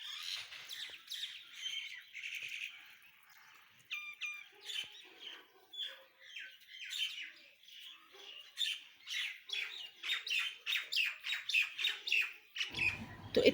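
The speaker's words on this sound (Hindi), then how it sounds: "आप परिंदों की आवाज़ ज़रा सुने" Several garden birds chirp and squawk close by in a quiet outdoor setting, with repeated bright calls that grow busier and louder toward the end before a brief low thump.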